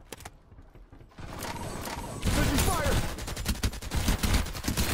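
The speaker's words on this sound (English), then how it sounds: "Taking fire." Gunfire in the shooter Farlight 84 breaks out as dense, rapid bursts of shots with mechanical clatter, growing louder and more continuous partway through and staying sustained to the end, with game sounds layered underneath.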